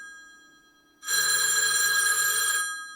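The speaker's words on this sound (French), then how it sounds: "C'est un téléphone vraiment? C'est un téléphone?" A landline telephone rings loudly and close by in one sustained, bright electronic burst lasting about a second and a half, following a quieter stretch of room tone, with no speech over it.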